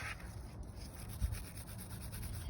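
Wire brush scrubbing brake parts on a 2006–2011 Honda Civic during a pad and rotor job, a steady close rasping rub with one brief louder scrape midway.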